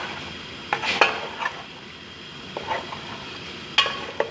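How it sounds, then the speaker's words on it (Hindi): Spoon stirring masala into okra (bhindi) in a pan, with a few short scrapes and clinks against the pan over a soft, steady sizzle, close and moderately quiet. "अभी वो मसाला हम भिंडी में डाल देते हैं। अच्छी तरह मिक्स करना है।"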